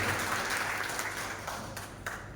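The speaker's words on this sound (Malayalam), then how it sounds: "കൈയടിച്ച് നമുക്ക് അവർക്ക് അഭിനന്ദനങ്ങൾ അറിയിക്കും." Audience at a trust's twelfth anniversary meeting applauding steadily, a dense, sustained round of clapping throughout that fades slightly toward the end.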